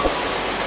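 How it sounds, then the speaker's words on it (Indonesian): Rain falls in a steady broadband hiss at a cattle market, briefly and without voices. "Hujan nih teman-teman, maaf nanti kita terping."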